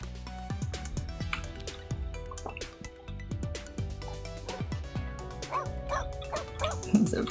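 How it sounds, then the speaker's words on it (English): A hostile pet dog in The Sims 2 barks and yips repeatedly in short bursts, with an occasional whimper, over light game background music. "He's a very hostile dog."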